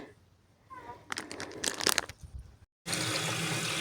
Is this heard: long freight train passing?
no